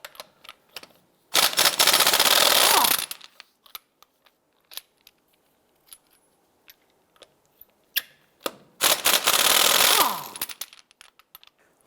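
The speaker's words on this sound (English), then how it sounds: "we're going to use our locking tool to remove these here" Two loud bursts of rapid rattling from an impact tool spin custom locking lug nuts off a Ford Fiesta wheel. Each burst lasts about two seconds, with scattered clicks and clanks of handling between and after them.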